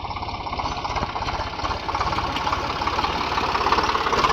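A tractor engine idles close by while soil is dumped onto a road, its steady low chugging pulse and mechanical knock continuing throughout with no talk.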